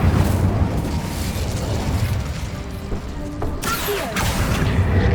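Incendio fire spell blast in Hogwarts Legacy, a loud roaring burst of flame with crackling rumble, followed by sharper bright magical whooshes and pops near the end.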